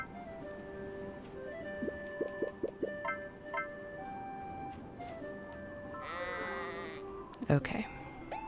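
Sheep in the Harvest Moon farming video game bleat in a short run of repeated calls, then a longer bleat, over steady looping game music and ambience.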